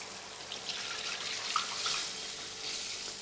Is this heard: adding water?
yes